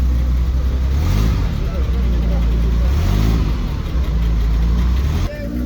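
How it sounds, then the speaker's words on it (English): A naturally aspirated 3-liter V8 in a Ferrari 308 GTB revs and pulls away at close range on a street in Milan, its loud engine note rising and falling, with talk over it. "And then goes off the 308 GTB with the naturally aspirated V8 3-liter 255 horsepower"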